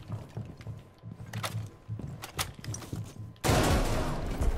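Gunfire in a shooting video game: scattered sharp shots and mechanical clacks over a low rumble, then a sudden dense burst of loud rapid fire and noise to the end, with no voices.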